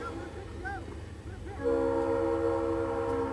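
A loud train horn sounds near a big railroad just outside Atlanta, Georgia, beside a youth baseball game. After faint, wavering tones it swells into a steady, sustained multi-tone blast that holds to the end.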